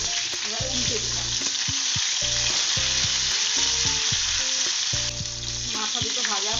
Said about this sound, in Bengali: মাথাগুলো এবার উল্টে দিলাম।